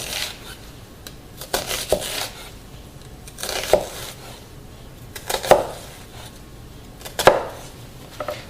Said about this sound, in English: I don't want to cut all the way through the onion